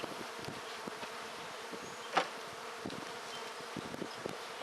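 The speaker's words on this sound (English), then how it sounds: "Well, you got bees there." Bees drone around a hive box at spring cleaning, a steady close buzzing broken by a few soft knocks and one brief sharper clatter, no talking.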